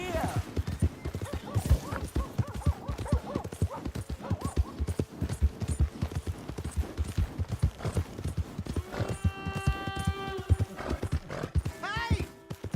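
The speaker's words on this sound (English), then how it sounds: "Hey! My horse!" Horse hooves clip-clop in a steady rhythm in Red Dead Redemption 2, close and prominent, with a horse whinnying near the end and game voices talking over it.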